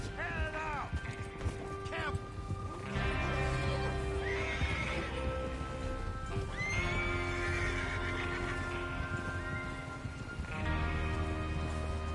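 Horses neigh and whinny repeatedly while hooves clip-clop steadily in a Red Dead Redemption 2 game scene, loud and close, with voices murmuring in the background.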